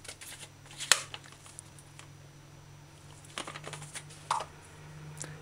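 A knife dices ingredients finely for chicken callaloo stew: quiet, irregular tapping cuts against a board, a few sharper clicks standing out over a low steady hum.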